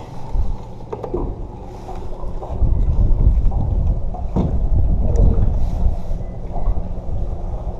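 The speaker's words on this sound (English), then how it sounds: "I'm having a lot of boat traffic" Steady low rumble of passing motorboat engines on Lake Guntersville, with wind buffeting the microphone; the drone swells louder midway and stays constant.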